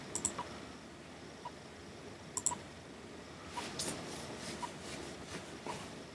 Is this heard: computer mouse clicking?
yes